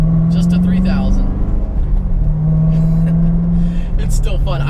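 A Chevrolet Camaro ZL1 pulling away from a red light, revving to about 3,000 rpm with a deep, steady engine rumble, while someone talks over it from inside.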